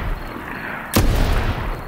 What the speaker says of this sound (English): 2 gunshots ring out.